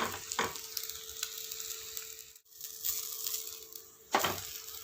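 A mushroom omelette frying in a pan just after being flipped, giving a steady soft sizzle with a couple of brief scraping movements and no talk.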